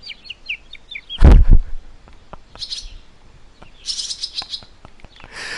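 Young birds chirp in short high bursts at a nest, with scattered tweets and clicks through the stretch and a loud thump near the start.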